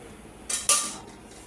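A spoon stirs a pot of chicken and potato curry, then a lid is set on it, giving two brief metallic clinks close by against a quiet kitchen background.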